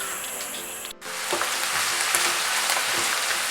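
Shallots drop into hot oil for mutton varattiyath, a brief quiet gap then a sudden steady hiss and crackle of frying that stays loud and continuous.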